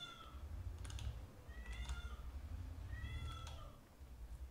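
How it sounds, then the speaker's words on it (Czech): A cat in heat meows in long, drawn-out yowls, three or four distinct calls spaced through the clip, faint beneath a steady low hum and keyboard clicking. "Sorry za mrouskající kočku."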